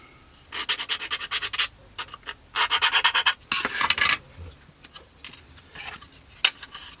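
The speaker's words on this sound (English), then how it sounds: "So after some more fit sanding" A plastic model kit part for a Kinetic Harrier GR3 is sanded by hand in rapid bursts of rasping strokes, several close, bright back-and-forth runs separated by brief pauses.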